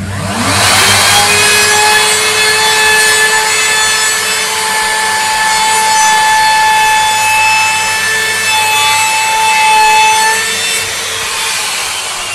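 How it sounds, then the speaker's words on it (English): A hand saw cuts wood for Japanese screen doors with loud, continuous, close rasping strokes that run steadily without a break. No speech is present. "I'll go down the full way now."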